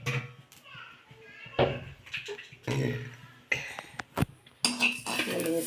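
A metal ladle scrapes and clinks against a pan roasting cumin, fenugreek and fennel seeds for Chettinad cluster bean puli kulambu, with irregular sharp knocks and rattles while a person talks throughout.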